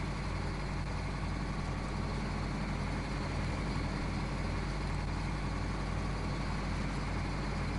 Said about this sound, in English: Love the sound of the diesel engine idling.